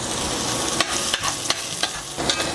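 Garlic and onion sautéing in a pan for menudo, a dense continuous sizzle and frying hiss broken by several sharp scraping stir strokes at irregular intervals, close and loud with no talking.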